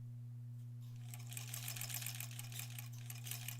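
A sewing machine running a seam on a quilt block, starting after a short hush and then whirring steadily to the end, close by over a low constant hum, without speech.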